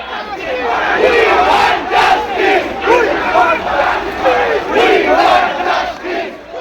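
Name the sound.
football fans' protest crowd chanting slogans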